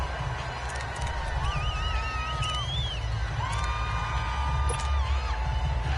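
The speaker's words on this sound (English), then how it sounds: "The crowd getting into it as we come up on a big 3rd down." Crowd noise in a PS4 American football game swells as a steady roar with whistle-like whoops and rising shouts on top, fairly loud and continuous throughout with no talk over it.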